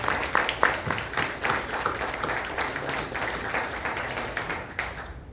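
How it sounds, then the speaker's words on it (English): An audience at a 2021 Huntingdon County Fair Grange breakfast applauds, dense crowd clapping that starts strong and tapers slightly over several seconds, close and fairly loud, with no talking over it. "let's give them a round of applause for what they've been doing"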